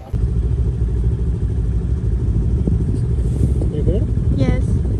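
A steady low snowmobile engine roar runs throughout, loud and close, in snowy Finland, with voices talking briefly over it near the end.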